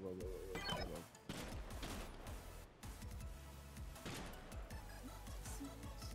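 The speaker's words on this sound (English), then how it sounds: "your gunfire" Gunfire crackles in the online shooter game Kompete, with rapid bursts of shots and sharp impacts repeating in quick volleys, fairly loud and close.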